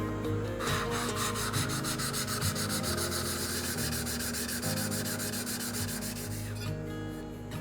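A steel card scraper's faces are rubbed flat against an abrasive, producing close, steady rasping strokes in a fast, even back-and-forth rhythm that continues throughout with no voices.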